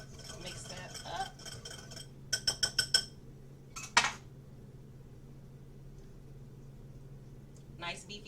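A metal utensil clinks against a dish while lion's mane mushroom filling for a Philly sandwich is mixed: a quick run of bright taps, a few scattered clinks and a sharp single strike, close by in a quiet kitchen.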